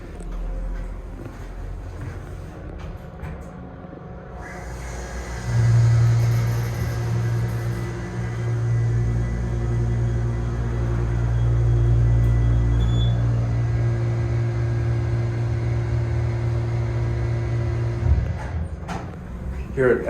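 An Otis Series 2 HydroFit machine-room-less hydraulic elevator motor starts up with a steady low hum and rumble, holding for about twelve seconds before dropping off, with speech partly over it.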